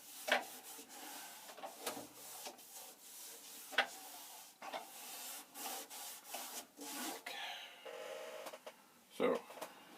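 A magic eraser scrubs the bezel of a dirty Commodore PET 4016, giving rhythmic rubbing strokes in short bursts, with talking heard in between.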